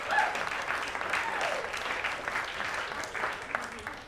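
A comedy-club audience at a stand-up show claps in a steady, fairly loud burst of applause that runs for several seconds before thinning slightly at the end.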